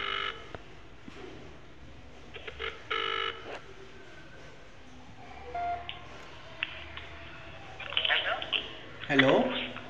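An outgoing phone call rings back through the handset in short, repeated electronic tone bursts spaced a few seconds apart. Background noise and faint voices come through between the tones.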